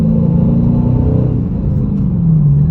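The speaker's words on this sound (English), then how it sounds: "Okay, second gear. That was like a third throttle, and this thing just really pulls." A 2021 Dodge Challenger Scat Pack Plus with a six-speed manual pulls hard in second gear at partial throttle, its engine a loud, steady low rumble that holds close and continuous throughout.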